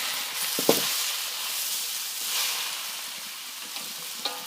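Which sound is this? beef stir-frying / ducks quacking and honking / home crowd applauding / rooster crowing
beef stir-frying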